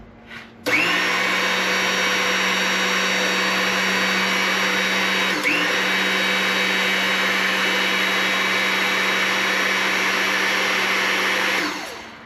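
A press pushes a pinion bearing off the transmission shaft of an antique Caterpillar RD4 tractor, making a steady, loud mechanical whine and hum that holds for about eleven seconds with one brief shift midway, then stops.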